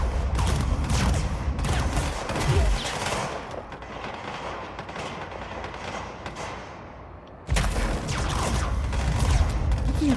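Enemies in the game Control open fire in dense bursts of rapid, loud gunshots with mechanical clatter, easing into quieter scattered noise before another heavy volley erupts near the end.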